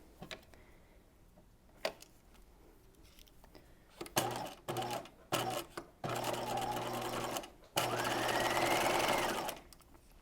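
Sewing machine running a straight stitch along a 5/8 inch seam allowance on a Breton top, stopping and starting in several short bursts before two longer steady runs, close and loud with no talk.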